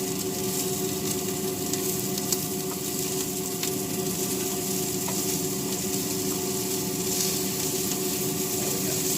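Meatballs fry in a pan with a steady, loud sizzle that runs throughout, and faint scrapes sound as a spoon flips them.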